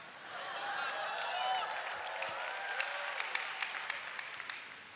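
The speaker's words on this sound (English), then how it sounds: "I've no time for your clapping" Church audience clapping during a sermon, a soft swell of applause mixed with cheering voices and murmur, thinning into scattered sharp individual claps toward the end.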